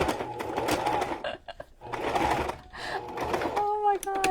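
A home sewing machine stitching in short runs that stall and lock up, whirring in bursts broken by gaps and clicks while a person talks over it.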